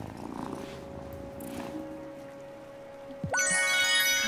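A cat in the video game Wylde Flowers purrs after being petted, a soft low rumbling purr under a faint steady tone, then a bright chiming jingle rises near the end.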